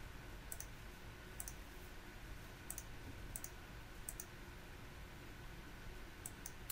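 Computer mouse button clicking at a desk, sharp light clicks in small pairs and singles spaced irregularly over a soft steady hiss, no voices.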